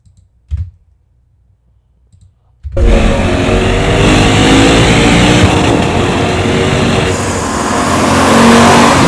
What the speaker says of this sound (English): you've got that sound. Naturally aspirated 8 cylinders.